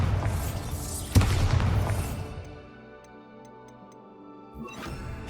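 Bombarda blasting spell from Hogwarts Legacy: a loud, sharp explosive crack with a broad crashing burst that rumbles and decays over a couple of seconds, followed by quieter ambient game sounds and faint tinkling tones.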